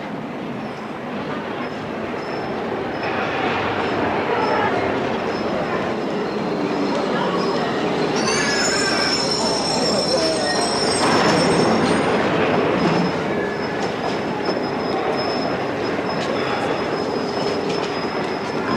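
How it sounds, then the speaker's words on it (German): A subway train rumbles past on the rails, loud and close, with screeching wheel squeals midway and a steady rolling clatter throughout. "Ah, eine U-Bahn. Eine Untergrundbahn."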